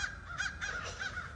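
A crow caws several times in a quick, rhythmic series, the calls fairly faint and distant over quiet outdoor background.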